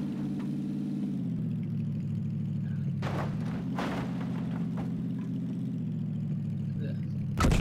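A car engine in the video game PUBG hums as a steady low drone throughout, with a couple of brief thumps partway through and no clear speech.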